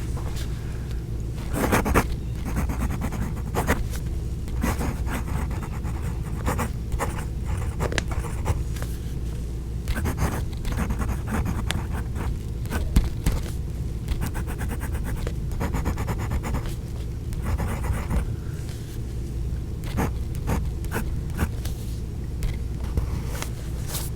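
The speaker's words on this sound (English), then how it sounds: "you get to hear a really amplified version of nib on paper" A Wing Sung 699 piston-filler fountain pen nib scratches across paper in close, amplified strokes, a steady stream of short scraping sweeps with brief pauses between words and letters.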